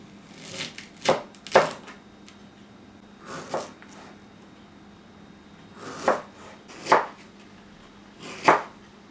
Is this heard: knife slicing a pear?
yes